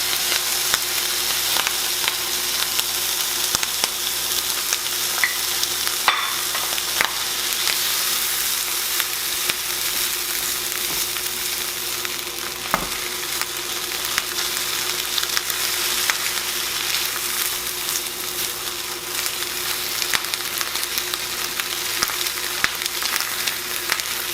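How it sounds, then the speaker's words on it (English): Eggs sizzle steadily in a hot pan for breakfast biscuit bombs, a continuous loud frying hiss with occasional faint clicks of stirring and no talking. "Now let's add our eggs."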